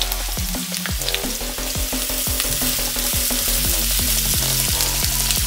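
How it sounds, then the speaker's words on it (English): Beetroot and other vegetables fry in a hot pan with a loud, steady sizzle, broken by scraping strokes of stirring throughout. "And then we will fry the vegetables first"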